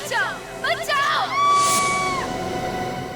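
A woman's high, strained screams for help ring out loud and close in a hotel, rising into a long sustained wail amid a noisy background.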